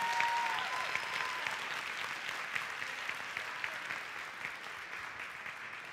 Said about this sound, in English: Give a big hand clap for this group.